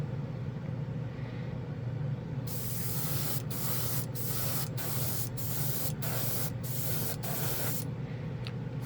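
Dspiae chrome spray paint hissing from a can onto a painted model piece, a steady close spray rising after a quiet start and broken by several brief pauses in a regular stop-and-go rhythm, over a low background hum.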